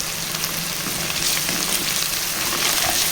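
Ginger garlic paste fries in a pan over a low gas flame with a steady, dense sizzle that stays close and even throughout, and no voices.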